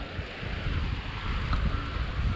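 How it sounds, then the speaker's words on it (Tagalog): Wind blows across a flooded riverbank after heavy flooding in Marikina, a steady broad rushing noise buffeting the microphone, with low rumbling that may be fast-flowing water. "Ayan na ang hangin."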